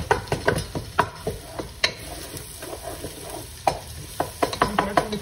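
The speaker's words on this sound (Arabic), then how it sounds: "شوف الحين البصل بدا ياخذ لون عندي، هنزل الثوم." Onion and garlic fry in a pan with a soft sizzle, broken by a series of sharp scraping stirs, close and clear, with no talking.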